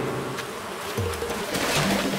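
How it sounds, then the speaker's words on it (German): Wasps buzzing close by in the Animal Crossing video game, a steady droning hum that holds for a couple of seconds with no talk over it. "Voll die Wespen stehen hier."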